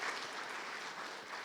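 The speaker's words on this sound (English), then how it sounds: "Let's give Cabot a round of applause there," Audience applause at a community meeting, a steady wash of many hands clapping at moderate volume throughout, with no talk over it.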